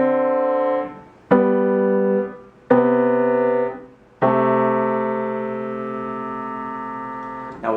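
Piano playing a jazz shell-voicing exercise in a single key: four sustained chords struck in turn, each ringing and decaying before the next, the last held longest, close and clear with no talking.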